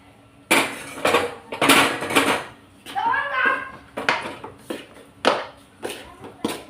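Boiled chana dal and jaggery stirred in a metal pot, with a series of clinks and scrapes from a spoon against the pot between stretches of nearby speech.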